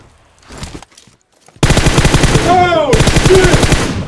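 Loud, dense automatic gunfire in the mobile battle-royale game PUBG Mobile, a rapid sustained burst after a quieter stretch of scattered shots and faint talk.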